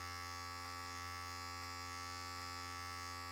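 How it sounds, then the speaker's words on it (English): An electric hair clipper used with the clipper-over-comb technique on afro hair gives a faint, steady, even buzz with a tonal hum that runs without a break. "start using the clipper over comb technique to begin blending"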